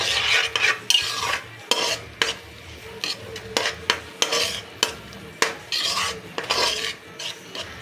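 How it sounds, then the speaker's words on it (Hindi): Masala for shahi bhindi is stirred in a pan with a metal spoon, making repeated sharp scraping and clinking strokes over a faint background sizzle. "मसाला हमारा अच्छे से फ्राई हो रहा है, बिल्कुल भुन रहा है।"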